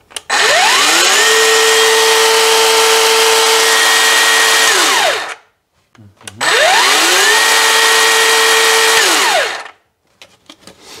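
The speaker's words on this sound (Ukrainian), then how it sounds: "хочу вам продемонструвати такий от перший запуск цієї ланцюгової пили" A new 2021 Black+Decker cordless chainsaw runs up for its first start, a loud steady electric whine held for about five seconds, then winding down, followed by a second identical burst and a few faint clicks afterward.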